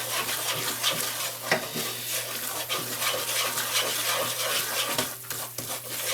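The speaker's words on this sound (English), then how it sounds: "So we are making our roux, which is simply oil and flour." A roux of oil and flour is stirred steadily in a pan, giving a continuous close sizzle and scraping swish with occasional sharper scrapes of the utensil, no talking.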